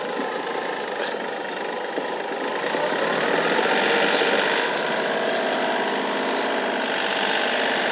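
An old tractor engine from 1999 runs continuously at a steady, rattling drone, growing slightly louder partway through, nearby and without pauses.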